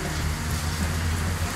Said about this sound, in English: What do you think about the rain?